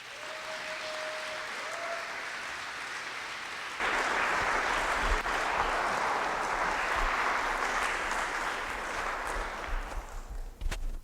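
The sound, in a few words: audience applause welcoming speaker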